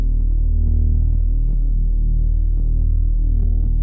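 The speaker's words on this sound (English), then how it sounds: "And for the bass, I have this Reese." Reese bass synth preset from a pop music sample pack in a dark alt-R&B production, a thick, steady low droning tone with a pulsing, throbbing beat and faint upper ticks, heard alone.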